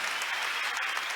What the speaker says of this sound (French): Acclamons le Seigneur pour ce témoignage